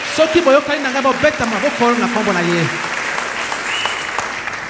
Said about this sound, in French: Si vous êtes d'accord avec moi, acclamons son nom ce matin.